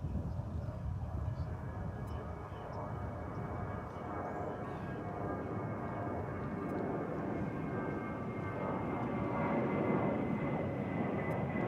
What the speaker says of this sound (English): It's an Airbus A320